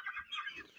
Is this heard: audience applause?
no